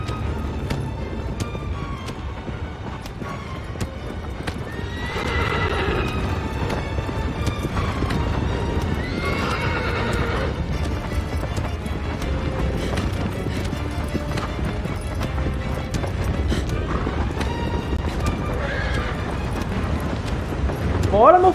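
Horse hooves clop steadily with occasional neighs in the Shadow of the Colossus video game, layered under game music and someone talking over the gameplay.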